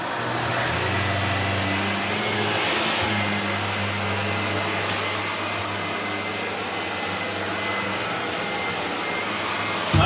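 A Shark Lift-Away ZU560 vacuum cleaner runs on carpet with a loud, steady motor whine and airflow roar, its tone shifting slightly as it is pushed across the floor.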